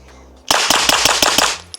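A rapid string of about six sharp, suppressed gunshots from a PSA Dagger Sabre pistol, a Glock clone, fired close and loud in quick succession, with quieter background noise before and after.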